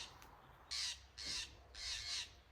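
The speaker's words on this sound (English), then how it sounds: "Man, the birds are screaming today." A crow caws three times in a row, loud harsh calls spaced about half a second apart, standing out over a quiet background with no talking.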